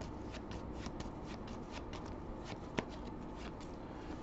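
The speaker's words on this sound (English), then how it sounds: "let's shuffle them up again." A deck of trading cards is shuffled by hand in a steady run of soft, papery riffles and flicks. The sound is quiet and close, with no one speaking.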